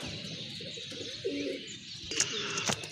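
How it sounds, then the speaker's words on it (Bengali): A pair of large pigeons coo softly in low murmurs while other birds chirp now and then against a steady background hiss. "খুবই সুন্দর বিগ সাইজের এক জোড়া কবুতর"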